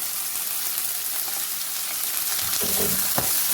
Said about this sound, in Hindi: इसको भी ज़्यादा इसके साथ ही भून लेंगे।